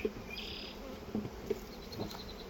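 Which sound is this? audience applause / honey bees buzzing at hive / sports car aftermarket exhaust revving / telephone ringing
honey bees buzzing at hive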